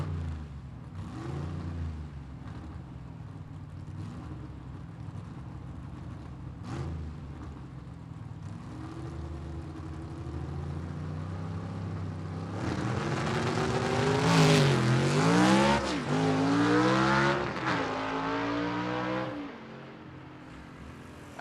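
A 1948 Anglia gasser drag car in B-gas trim makes a loud pass down a drag strip, its engine note rising in repeated revving sweeps through the gears and peaking about two-thirds in before fading away.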